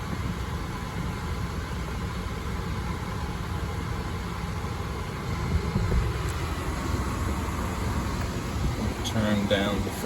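A steady broadband whoosh of an Infiniti QX80's ventilation fan blowing fills the cabin, constant and close, swelling slightly midway, with no one talking.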